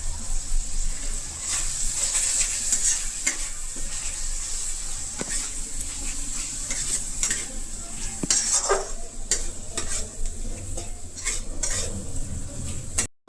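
Spices for an egg and potato curry sizzle in a frying pan while a spoon scrapes and knocks against the metal in irregular strokes, close and continuous throughout.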